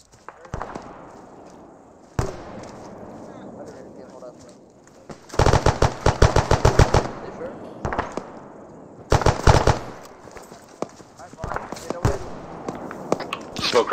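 Grenade launcher lobbing smoke rounds during a squad firefight in ArmA 3: rapid bursts of sharp reports come in two dense volleys among scattered single shots, over a steady background rumble, with voices talking.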